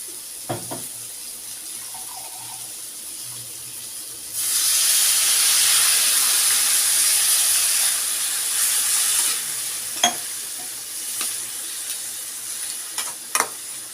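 Papaya and soybean curry sizzles loudly once water hits the hot pan, a dense hiss that lasts about five seconds and then dies down to a quieter simmer broken by occasional sharp pops and crackles.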